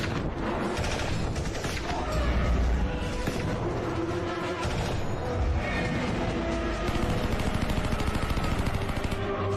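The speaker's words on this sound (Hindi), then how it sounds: "गोली चलाओ।" Dense, continuous rapid gunfire from a movie battle scene, loud and relentless automatic bursts layered with booms throughout, with no break in the barrage.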